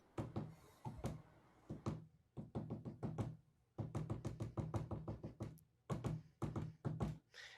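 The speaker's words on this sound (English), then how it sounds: "is this a series of rhythmic different taps on a door" A door is knocked in a long rhythmic series, sharp close raps grouped into varied bursts and patterns with brief pauses between them, loud and alone with no talk.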